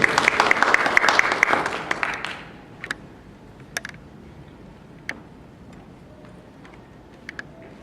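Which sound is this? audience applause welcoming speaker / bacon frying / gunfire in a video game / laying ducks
audience applause welcoming speaker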